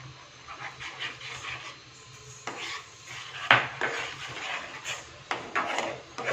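A spoon scrapes and knocks against a pan while homemade tomato ketchup, seasoned with lemon juice, red chilli powder, sugar and salt, is stirred, giving uneven clinks and rubbing scrapes at close range.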